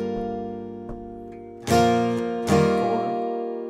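An acoustic guitar rings out a sustained chord, then two strong strums follow, each ringing and fading slowly, close and fairly loud.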